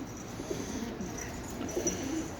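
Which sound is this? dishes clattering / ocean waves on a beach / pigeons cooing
pigeons cooing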